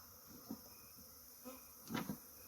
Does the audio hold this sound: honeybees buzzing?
yes